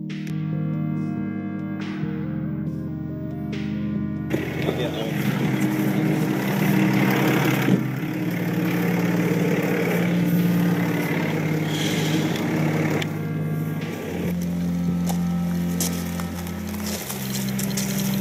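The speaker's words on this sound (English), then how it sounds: "We weren't really surprised to see the white truck following us still." A white truck's engine idles and rumbles steadily, then passes nearby, a continuous low drone with shifting tone and some clattering over a long stretch, with no talk.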